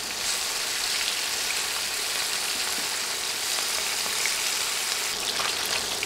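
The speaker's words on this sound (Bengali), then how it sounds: "এক পাশ ভাজা হলে এবার উল্টে অন্য পাশও ভেজে নিব" Fish pieces fry in oil in a pan, producing a dense, loud, continuous sizzle with fine crackles and occasional faint clinks, steady throughout with no speech.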